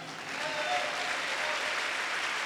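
A congregation at a pastors' seminar in Guadalupe, Mexico gives a loud, dense round of applause that holds steady for the whole moment, with broadband clapping filling the room.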